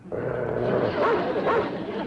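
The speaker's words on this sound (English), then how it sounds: "This your dog, mister? Look out, he's a man-eater." A dog yips, whimpers and barks in a steady, close run of vocalizations on a classic western TV sitcom set, loud and continuous with no clear talk over it.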